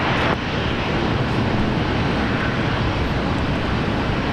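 A Qantas airliner lands on runway 19 right at Brisbane Airport, a loud, close, continuous broadband engine roar and rushing rumble that fills the whole stretch without pause.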